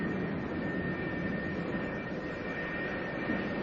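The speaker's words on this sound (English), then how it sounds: "another pair of Phantoms taxis up for launch" McDonnell Douglas F-4 Phantom II jets taxiing toward the launch spot on an aircraft carrier deck, a steady loud jet-engine roar and whine holding constant throughout.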